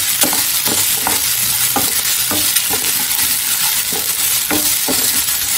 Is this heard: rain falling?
no